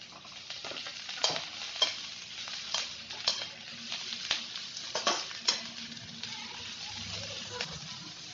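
Capsicum pieces stir-fry in a hot pan for hakka noodles, a soft steady sizzle broken by repeated sharp scraping strokes of a spatula at an uneven rhythm.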